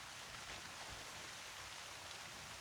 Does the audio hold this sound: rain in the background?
yes